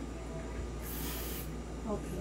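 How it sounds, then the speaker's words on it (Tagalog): Lubricant is sprayed onto an airsoft gun in a short hissing burst, heard over steady background noise and a low hum. "Tapos, isprayan po natin dyan."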